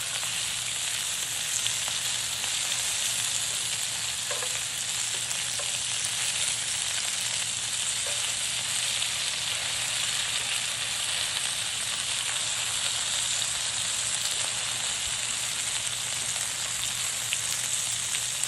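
Potatoes fry in a hot pan with a steady, dense sizzle that hisses continuously and loudly from up close, with occasional small pops and stirring sounds and no talking over it.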